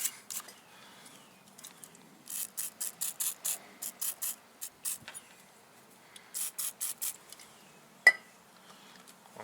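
A toothbrush scrubs the brake switch recess of a BMW K75 motorcycle after a spray of brake cleaner, making quick rhythmic bristly bursts in two clusters, close and moderately loud, with a sharp knock near the end.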